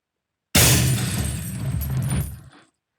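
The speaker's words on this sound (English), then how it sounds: "as my car crash sound now" A car crash sound effect bursts in abruptly after a short silence, with loud shattering glass and a heavy low impact rumble that sustains for about two seconds and then cuts off.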